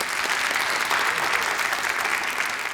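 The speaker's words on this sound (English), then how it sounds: "Let's give him a round of applause real quick." A roomful of people applauds at a talk on being an Oklahoman, a dense, even wash of clapping that holds steady and fairly loud throughout, with no voices over it.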